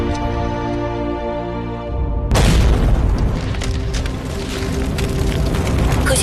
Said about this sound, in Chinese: 科学家刘志远因实验室意外爆炸不幸身亡